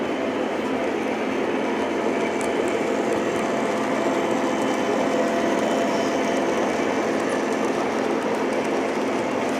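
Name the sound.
Lionel GP9 model locomotive pulling an Erie freight train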